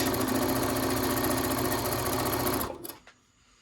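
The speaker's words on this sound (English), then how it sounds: "I'm going to put it together like that and sew it right there." A sewing machine stitches crumb-pieced quilt scraps together in a fast, even mechanical whir. It is close and continuous for a few seconds, then stops abruptly with a couple of small clicks.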